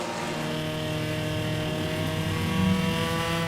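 Stock cars racing at a Langley Speedway enduro, with several engines droning together in a loud, sustained roar that swells briefly near the end.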